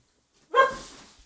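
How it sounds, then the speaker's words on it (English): A single dog bark, close and sharp, breaking a quiet room during a podcast recording and trailing off quickly. "What are you barking at?"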